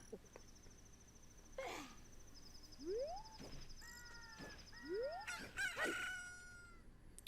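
A rooster crows at dawn in a Zelda-style video game village, with several rising cock-a-doodle-doo calls plus some clucking and chirps, moderately loud against a quiet background.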